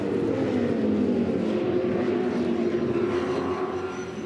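Supercars engines roar past on the Mountain at Bathurst during the 2006 Bathurst 1000, a loud, continuous drone of several cars with a slowly falling engine note, steady throughout.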